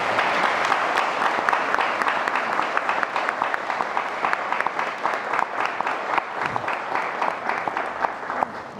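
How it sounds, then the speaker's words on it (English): Sustained applause from a crowd at a wedding, steady dense clapping that continues throughout without any talking. "all the parents deserve a round of applause"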